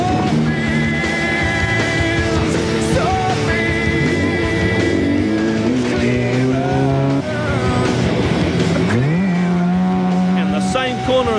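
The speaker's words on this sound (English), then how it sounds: "On stage 9, this corner gives Jones a hell of a fright" A 1995 Otago Rally car races through a stage corner, its engine loud and revving up and down with shifting pitch, while a commentator talks over it throughout.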